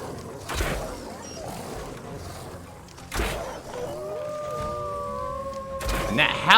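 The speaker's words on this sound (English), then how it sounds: "And that howl of theirs is menacing." A dire wolf in the video game Ark lets out a long, rising howl that holds steady for a couple of seconds, preceded by short growls and thuds and ending in sharper snarls, with someone talking over it at points.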